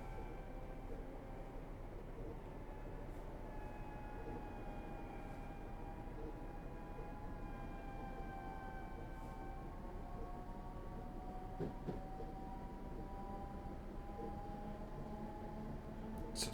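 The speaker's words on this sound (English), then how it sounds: "so we can now depart for our final station stop at Liverpool Street" A Class 321 electric train departs Stratford in Train Simulator, a steady low rumble with rising whining motor tones gliding upward as it accelerates, quiet and continuous without speech.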